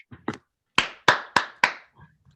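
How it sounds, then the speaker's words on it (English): A few light, deliberate hand claps, about six spaced slow taps close by and alone, in a casual golf-clap style. "Let's give a golf clap for the Lions."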